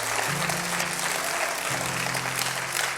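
A church congregation applauds during a Sunday morning service, a short burst of steady clapping with held keyboard notes beneath it.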